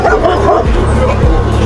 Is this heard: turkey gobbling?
no